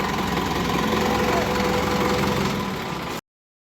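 A tractor engine idles outdoors with a steady low rumble and fast mechanical knocking, loud and close for about three seconds before cutting off abruptly.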